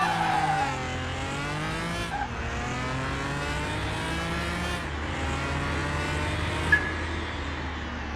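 A race car in Car Mechanic Simulator 2021 holds a loud, sustained engine whine, rising and shifting pitch through several gear changes, with faint tire squeal, unaccompanied by talk.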